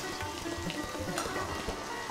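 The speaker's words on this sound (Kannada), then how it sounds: "ಹಸಿಮೆಣಸಿನ್ಕಾಯಿ ಎಲ್ಲ ಫ್ರೈ ಆಗ್ತಾ ಇದೆ" Green chillies fry in hot oil in a pan, giving a steady close sizzle with light popping crackles and faint stirring scrapes, and no voices.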